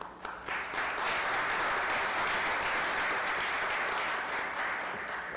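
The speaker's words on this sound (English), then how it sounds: "We normally don't encourage applause in these chambers" Applause fills a city council chamber in Akron, a steady, dense clapping from a seated crowd that holds nearly level for several seconds with no talk over it.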